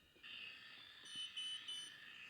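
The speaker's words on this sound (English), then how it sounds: "And 3 beeps, we are ended with developing step." An AGO film processor signals the end of the developing step with three short, high electronic beeps in quick succession over a faint, steady electronic hum.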